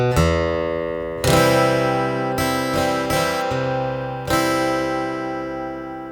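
Guitar strumming the chord progression of a song in a lesson, four full ringing strums spaced a second or so apart, loud and close with no talk.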